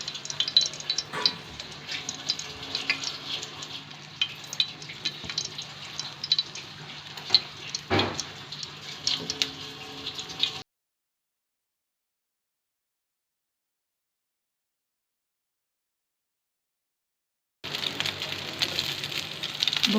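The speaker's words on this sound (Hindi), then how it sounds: "अब एक एक कबाब को हमने अंडे के अंदर डिप करना है और इसको फ्राई कर लेना है।" Shami kebabs dipped in beaten egg frying in a pan, a steady close sizzle with crackles and light stirring, cutting out to silence partway before the frying resumes.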